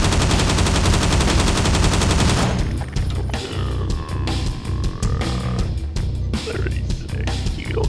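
Rapid automatic gunfire rattles in Garry's Mod, a dense, continuous stream of shots at first, then breaking into choppier bursts over a background rumble, loud and close.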